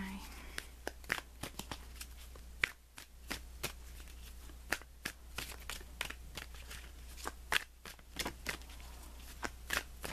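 Tarot cards shuffled by hand, a run of sharp papery riffles and slaps spaced irregularly, close and fairly quiet over a low hum, with a voice talking now and then.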